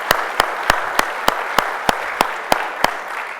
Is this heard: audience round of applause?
yes